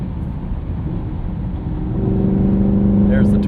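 Inside a 2023 Chevrolet Camaro SS 1LE with its LT1 V8 and six-speed manual, the engine pulls in 5th gear, a low steady drone that swells and rises in pitch as it accelerates under road noise.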